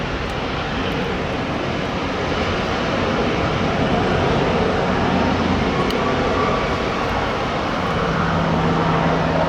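A Frontier airliner passes by near DFW, a steady broadband jet engine roar that holds loud and even throughout, with no talk over it.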